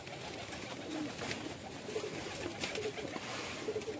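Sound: female breeder pigeon cooing

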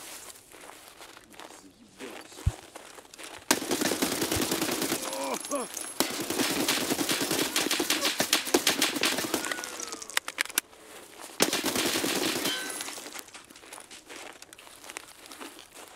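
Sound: gunfire from an enemy scav in the video game Escape From Tarkov

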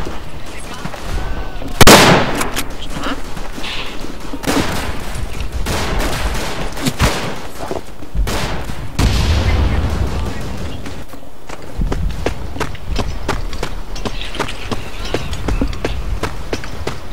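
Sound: artillery and rifle fire, video game Verdun

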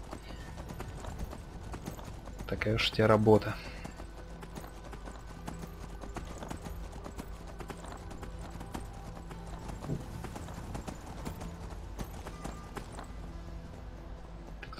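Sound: horse galloping in video game Skyrim

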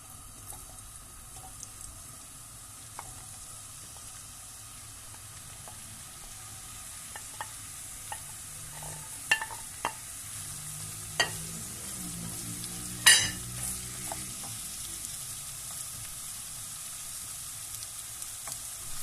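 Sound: zucchini added to hot oil, sizzling in the pan

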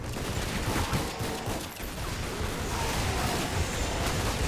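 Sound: gunshots from the video game Lara Croft and the Guardian of Light

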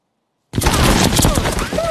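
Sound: machine gun fire in a Vietnam war film

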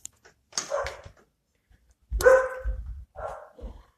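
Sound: dogs barking

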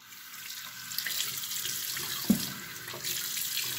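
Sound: water running from a tap while washing hands

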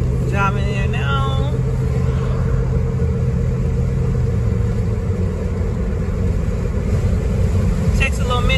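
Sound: car driving, heard from inside

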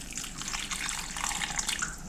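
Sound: rinsing prunes under running water

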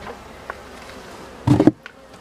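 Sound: honeybees buzzing around a hive

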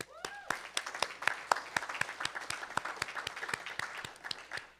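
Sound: applause

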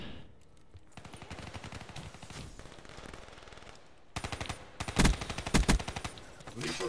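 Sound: KN gunfire in Black Ops 3 video game

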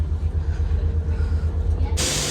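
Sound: train

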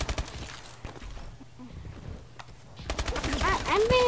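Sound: gunfire in a video game

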